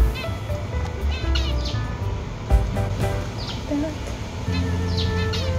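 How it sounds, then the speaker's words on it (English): A small pet finch chirps indoors in quick, high, thin bursts scattered over a busy background of other sounds, fairly faint and intermittent. "I'm sorry if you can hear the bird. I have a little finch right there."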